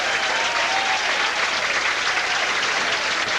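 A bowling crowd at the 1985 Kodak Invitational tournament breaks into loud, sustained applause, a dense and steady wash of clapping filling the whole moment without pause.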